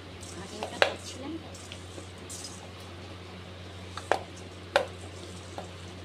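Potatoes and onions fry together with chilli and cumin in a pan, giving a low, steady sizzle with a few sharp scraping clicks of stirring, while a person talks quietly over it.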